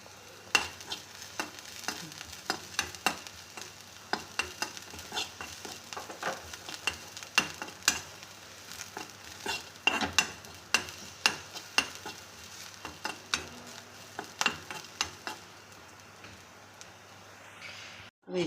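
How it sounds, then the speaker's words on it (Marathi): Green chillies and garlic fry gently over a low flame in a pan, a soft steady sizzle punctuated by frequent sharp clicks and scrapes of a spoon stirring, ending with a louder bump. "मिरची लसूण छानसा तळून घ्यायचा, आपण फ्राय करून घेतला"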